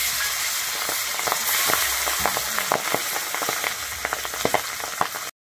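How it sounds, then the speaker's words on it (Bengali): Pabda fish frying in hot oil, a loud, continuous sizzle peppered with sharp spitting pops and crackles, close up and without talk, cutting off abruptly at the end. "আমার তেলটা গরম হয়ে গেছে, মাছটা এবারে দিয়ে দিচ্ছি।"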